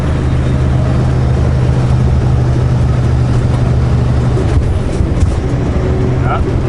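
Car driving in manual mode on a slippery snowy spring road in British Columbia with ABS engaging, a steady loud engine and road rumble throughout, heard from inside the cabin.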